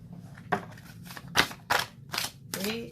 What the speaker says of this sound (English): I'm going to see what happens when I continue to shuffle.